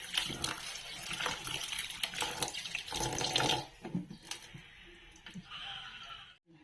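Tap water gushes into a kitchen sink while squid is washed by hand, splashing and sloshing unevenly before the flow tapers to drips and quiet handling.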